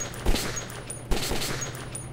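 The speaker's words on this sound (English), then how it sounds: "It's actually a really good assault rifle in short bursts." Assault rifle in the video game Metro 2033 firing two short bursts about a second apart, the shots punchy and moderately loud over a steady low game hum.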